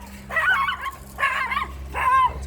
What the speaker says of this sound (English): That's a tiny dog.